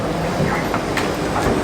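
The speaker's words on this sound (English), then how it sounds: "We are now sitting on this random train." Interior rumble of a moving passenger train in France, steady rail noise with faint clickety-clack and occasional wheel squeals, close and continuous with no talk.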